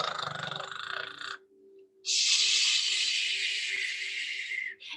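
During a children's bedtime yoga session, a child imitates a grandmother snoring with two long, breathy, hissing snores separated by a short pause, the second one louder and sustained.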